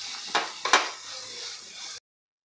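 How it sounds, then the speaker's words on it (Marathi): A spoon scrapes through mashed eggplant bharit mixture in a hot pan, with two distinct stirring strokes over a steady soft sizzle before it cuts off abruptly. "आणि सगळं आपल्याला मिक्स करून घ्यायचं आहे."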